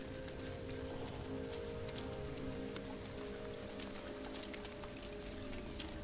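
Toxic rain on an alien planet in No Man's Sky, a steady, dense patter of raindrops hissing continuously at even loudness, with a faint low hum beneath.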